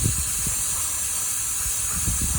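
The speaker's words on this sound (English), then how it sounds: "I'm going to spray here." A steady, loud hiss of aerosol brake cleaner spray runs continuously from start to finish, with faint low knocks underneath.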